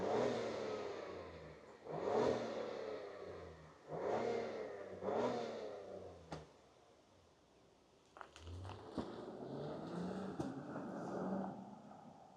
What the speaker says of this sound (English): let's fire it up and hear what this performance SUV sounds like